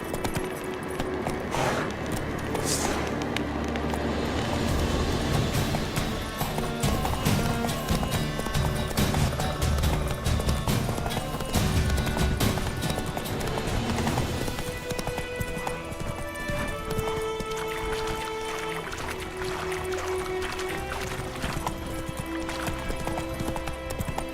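Roach the horse gallops in The Witcher 3, hooves pounding in a steady rhythmic clip-clop with a brief whinny near the start, over a continuous game backdrop of wind and music.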